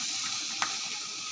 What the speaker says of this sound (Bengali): বাঁধাকপি দিয়ে একটু নেড়ে দেবো।